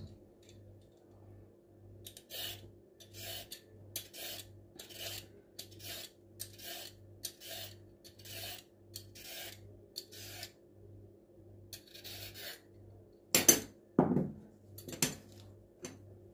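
Vegetables being peeled in a home kitchen for fritters, a series of short scraping strokes roughly every half second over a steady low hum, then a few louder knocks and clatters near the end, with no talking.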